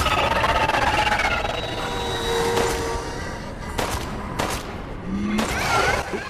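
Gunfire in Resident Evil Village's Shadows of Rose mode, a few sharp shots cracking out at moments over a busy, continuous game soundscape, with no talk.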